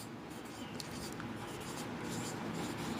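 A marker or chalk writes a definition on a classroom board during a class 10 physics lesson on light reflection. The steady scratching strokes sit under a constant background hiss.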